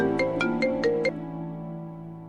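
A phone rings with a short melodic ringtone: five quick bright notes, then a fading tail, fairly quiet and with no voices.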